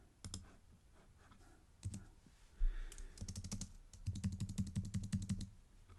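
Computer keyboard keys tapped on a password field, with scattered clicks early on, then rapid bursts of repeated keypresses like hammered backspace, close and moderately loud.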